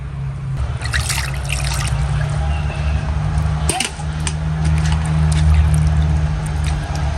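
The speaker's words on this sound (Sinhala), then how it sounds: "මේ මාළුවා හොඳට හොද ගන්න ඕනේ" Water trickles and splashes as fish are washed by hand for a village-style fish ambul thiyal, a close, continuous running and dribbling sound with a brief sharper splash midway.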